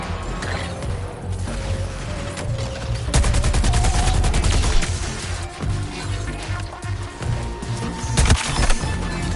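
Gunfire in the Suicide Squad video game, with dense bursts of rapid shots and crashing impacts swelling and fading over a loud, busy battle backdrop and no talk.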